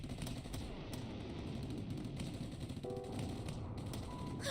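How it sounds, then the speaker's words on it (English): Gunfire in the video game Steins;Gate 0, a rapid clattering volley of shots fairly loud against a dense, continuous background din, with no talking. "Oh, that's gunfire."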